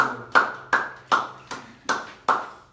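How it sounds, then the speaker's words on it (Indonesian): A classroom of students claps together for a student group, giving seven sharp, evenly spaced unison claps about a third of a second apart, each decaying quickly, close and clear with no talk over them. "tepuk tangan untuk kelompok 1."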